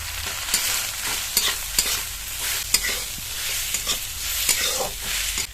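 Grated potato frying with cumin, chopped green chilli and grated ginger gives a close, continuous oily hiss, punctuated by sharp stirring scrapes and clicks at a fairly regular pace; no one speaks.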